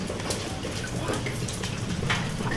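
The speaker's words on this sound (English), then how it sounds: "How is it raining in my house, bro?" Steady rain falling indoors inside a house, a dense, even hiss of drops and patter that runs unbroken throughout without pause.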